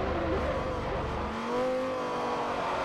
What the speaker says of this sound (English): Dropping those gears in this car is...